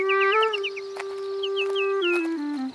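Sad birdsong in a Turkish cartoon, a steady sustained tone with chirped, repeated warbles above it that falls downward at the end, close and clear with no talking.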